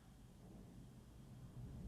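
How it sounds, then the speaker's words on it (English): Low rumbling thunder rolls through the background during an outdoor senior fours bowls semi-final, a steady broad low-frequency roar that swells slightly toward the end, with no speech over it. "That's a loud thunderclap in the background."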